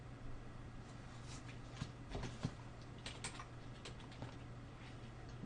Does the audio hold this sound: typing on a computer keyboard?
yes